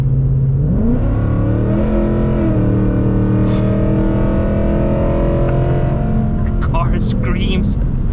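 A Ford Mustang GT S650 with an FBO setup revs hard toward about 5000 RPM, a loud, steady rising engine drone that climbs in pitch and holds close up, with brief voices near the end.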